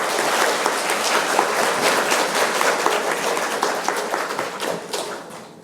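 Audience at a Franciscan spirituality academic lecture applauding to welcome the speaker, a philosophy professor; dense, sustained clapping that stays loud before tapering off at the end.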